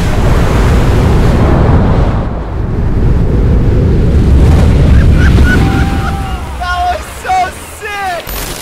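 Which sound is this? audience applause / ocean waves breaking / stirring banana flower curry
ocean waves breaking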